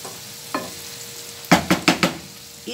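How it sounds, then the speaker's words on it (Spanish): Rice being stirred in a pot for Christmas rice: after a single scrape, four quick spoon scrapes and knocks follow in a row against a quiet low background. "moverlo muy bien para que se suavice todo el arroz"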